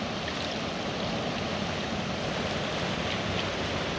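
Water flows steadily from Big Spring along the Slough Trail, a constant, broad rushing sound that stays even throughout, with no talking.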